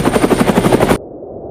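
A helicopter takes off in the snowy Tantalus Range mountains, its loud, rapid rotor chop thumping rhythmically close by before the sound cuts off sharply.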